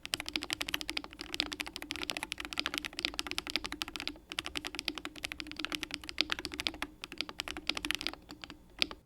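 Rapid, continuous typing on a Wooting 80HE mechanical keyboard fitted with Jade Pro switches, close and clear, keystrokes clattering in dense bursts with a couple of brief pauses and no talk.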